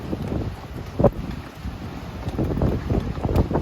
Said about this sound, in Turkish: Hava güneş ama rüzgar fırtına devam etti.